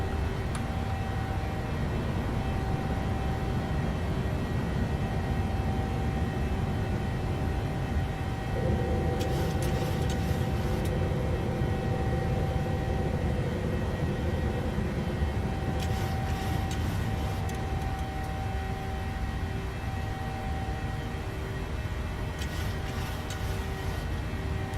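A WestJet airliner in Microsoft Flight Simulator climbs out of Ottawa after takeoff, a steady loud engine roar with whining tones that holds evenly throughout, with a few brief faint clicks over it.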